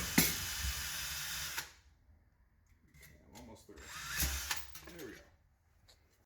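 A 1/4-inch brass round stock is spun while being cut to length for a rivet, giving two harsh, loud bursts of close cutting noise with someone talking between them.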